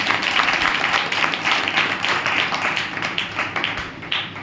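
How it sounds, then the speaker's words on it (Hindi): Audience applause at a church gathering, sustained dense clapping that holds steady throughout with slight swells, broad and fairly loud, with no voices standing out. "ताली बजाइए।"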